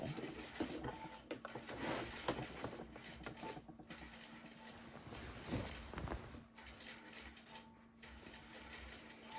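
Close and steady, a sewing machine runs continuously as it stitches the seams of a four-fabric quilt, giving a dense mechanical whir with a low hum beneath.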